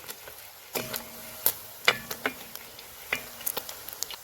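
Pre-boiled squid fries in hot coconut oil in a pan, giving a faint, soft sizzle. Scattered sharp clicks and taps from a utensil are spread unevenly across the frying, with no talk.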